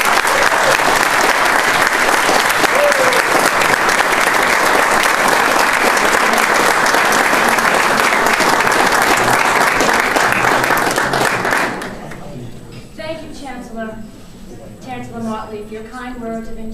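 Audience applause welcoming a speaker at a portrait unveiling in a college room, dense steady clapping from a large crowd that fills the room, then cuts off abruptly and a voice begins talking.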